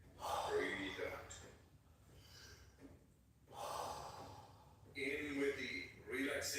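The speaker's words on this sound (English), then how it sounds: "Breathe in, breathe out, breathe in, breathe out." Slow, rhythmic breathing in and out during a blindfolded yoga session, with several audible breaths and exhales in a repeating pattern separated by quieter pauses.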